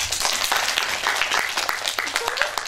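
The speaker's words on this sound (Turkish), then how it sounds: "Beni bir alkışlayın lütfen." Children in a theatre audience applaud, a loud, busy, continuous clatter of small hands with excited voices mixed in underneath.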